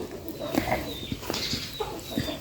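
Farm chickens near a pig pen cluck in short, scattered bursts at moderate distance, mixed with faint rustling and background noise.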